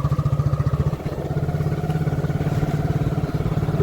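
A motorcycle runs with a steady, rapid engine thrum and pulsing exhaust beat, close by and continuous through an evening ride.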